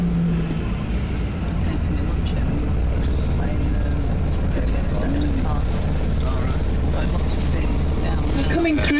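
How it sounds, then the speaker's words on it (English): Road traffic moves through a bus junction near Penny Lane, a steady broad rumble of passing cars and buses with continuous low engine drone, while a voice talks over it throughout. "We're coming through that bus junction now"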